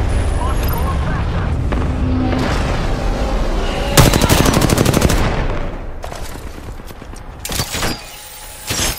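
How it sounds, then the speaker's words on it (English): Enemies firing guns in a third-person video game: loud, sustained bursts of automatic fire with sharp cracks and a shattering impact, mixed with game sounds and fading to sporadic shots. "The enemies are shooting at me."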